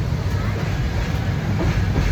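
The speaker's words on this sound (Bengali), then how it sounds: "আমাদের ট্রেন 20 মিনিট লেট করেছে আসছে" A passenger train arrives at a station as a loud, continuous rumble of rolling wagons close by, with a dense, steady roar and no clear pauses.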